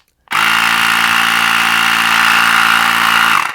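A small Veeape portable air compressor motor starts abruptly while inflating a tire, running at a loud, steady buzzing drone for a few seconds before cutting off, with no voices.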